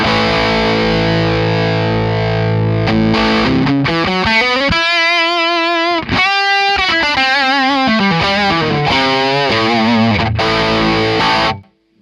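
An electric guitar played through a Hotone XTOMP pedal's Marshall Plexi amp model, turned up loud, rings out with sustained distorted chords and bending single notes, saturated and very loud, without speech.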